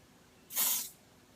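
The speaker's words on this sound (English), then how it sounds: "I'm going to try and spray onto my face." A Dior Airflash aerosol foundation sprayed onto a face gives a single hissing burst of about half a second, close and fairly loud, alone against quiet.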